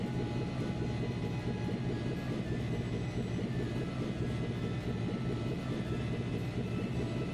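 Airship Linde bound for Granson departing in the game Trails in the Sky, a steady low rumbling engine drone that holds evenly throughout with no voices over it.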